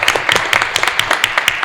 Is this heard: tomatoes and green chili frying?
no